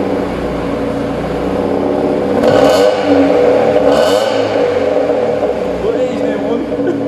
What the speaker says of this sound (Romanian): Sturează puțin.